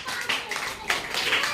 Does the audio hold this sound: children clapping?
yes